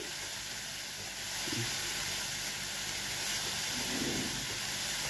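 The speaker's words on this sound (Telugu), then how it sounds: "మసాలాతో పాటు ఉల్లిపాయలు వేగాలి." Sliced onions fry with masala spices in a hot pan for a raw banana kofta curry, giving a steady close sizzling hiss that swells slightly after the first second.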